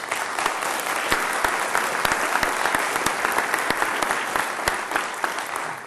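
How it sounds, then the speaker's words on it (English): Steady, dense applause from a large audience at a university address, sustained at even loudness throughout with sharp individual claps standing out from the wash. "Again, a round of applause"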